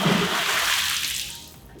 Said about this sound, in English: I'm going to toss this in the pool, and I predict it's going to sink because this is a pretty heavy brick